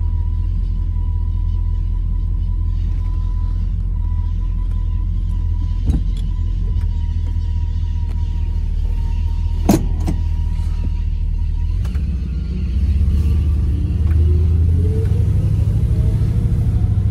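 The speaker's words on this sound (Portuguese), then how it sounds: "os controles elétricos, tá? O vidro elétrico." A 1970 Dodge car's electric windows whir under a steady engine rumble, with a couple of sharp clicks and then a rising motor whine as a window moves, close and without talking.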